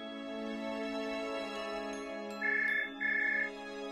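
An incoming call sets off a phone ringtone: two short, bright electronic tone bursts in quick succession, clearly audible over a steady bed of sustained background music.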